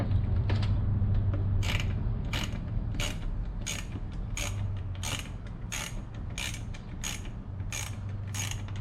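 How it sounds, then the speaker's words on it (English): A ratchet backs out a T15 Torx taillight screw on a C6 Corvette Grand Sport, its pawl clicking in a steady repeating rhythm of about a dozen close, crisp ticks over a low mechanical hum. "Make sure the ratchets turn the right direction."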